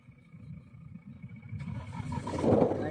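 A safari vehicle in Gir forest starting up, its engine catching partway through and then rising into a low rumble that grows louder toward the end.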